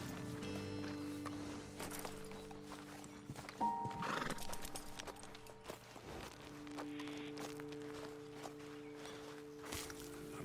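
Horses in Red Dead Redemption 2 stand near a roadside ledge, a soft neigh and shifting hoof clops sounding close under a steady bed of game music and ambience.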